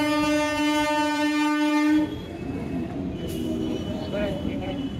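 A passing train at a crowded Kolkata ghat sounds a long, loud steady horn for about two seconds, then the rumble and rattle of rail cars rolling close by continues.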